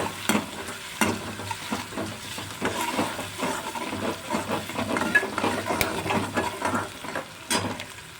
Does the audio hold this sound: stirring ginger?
yes